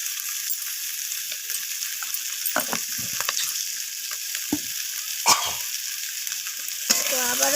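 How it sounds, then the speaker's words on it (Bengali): Garlic and ginger paste with salt is stirred in a hot pan for a rohu fish curry, producing a bright, steady sizzle with spatula scrapes and knocks against the pan. "রসুন আর আদাটাকে দিয়ে আমি কষিয়ে নিচ্ছি।"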